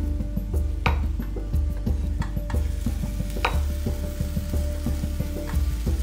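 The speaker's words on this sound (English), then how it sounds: "Let's get these sizzling with the garlic. You're gonna start hearing that pan going any second." Cherry tomatoes and garlic frying in a hot pan on a home stove, a steady sizzle with a spoon stirring and scraping and occasional sharp metallic clinks.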